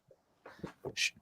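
A single short sneeze, a quick breathy build-up and then a sharp hissing burst, close and fairly loud in an otherwise quiet room.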